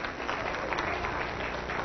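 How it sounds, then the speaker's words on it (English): Congregation applauding at the close of a church service broadcast, a brief, muffled, steady patter of many hands clapping together. "Give them a round of applause."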